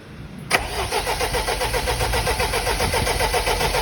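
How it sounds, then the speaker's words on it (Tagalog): A Sino truck diesel engine starts after its fuel system has been bled. A sharp crank catches at once and settles into a loud, steady, close-up idle with a high whine on top. "Engine start."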